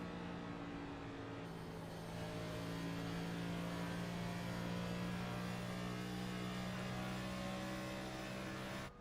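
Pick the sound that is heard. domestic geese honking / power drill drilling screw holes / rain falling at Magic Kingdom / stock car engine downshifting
stock car engine downshifting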